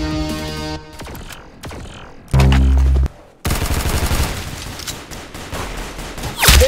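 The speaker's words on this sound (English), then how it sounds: "That's some beautiful shooting right there." Video game gunfire: rapid bursts of automatic weapon fire and single shots, one loud sustained blast midway, dense and close with a final burst at the end.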